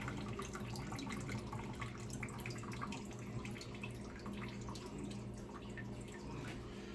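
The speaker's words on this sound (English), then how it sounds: "I think when you wash kale, the water come out green" Kale leaves are rinsed under a running tap at a kitchen sink, giving a steady, faint wash of flowing water with small splashes and drips throughout and no talking.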